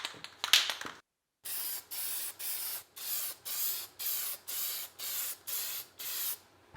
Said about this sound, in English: I sanded it down with some 220 grit sandpaper and I'm going to coat it with 2 coats of black paint